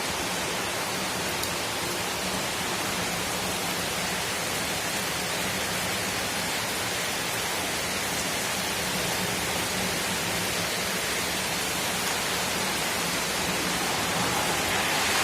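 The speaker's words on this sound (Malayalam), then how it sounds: "നല്ല പെരും മഴ പെയ്യുന്നു" Heavy rain pours in a steady, dense, unbroken hiss that stays loud and even throughout, with no voices or other distinct sounds standing out.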